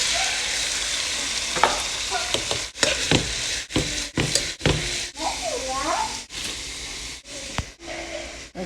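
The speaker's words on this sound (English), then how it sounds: "I'm gonna stir it a little bit" Pinto beans get stirred in seasoned oil in a pot for Haitian rice, giving a soft steady sizzle with scraping spoon strokes and light knocks against the pot, with some nearby breathing.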